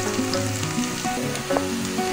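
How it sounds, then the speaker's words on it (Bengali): Onions frying in a pan for beef with chana dal, softening without browning, a continuous close sizzle with faint crackles and an occasional light stir. "পেঁয়াজটা আমি বেরেস্তা করবো না, একটু নরম হলেই আমি সব মশলা দিয়ে দিব।"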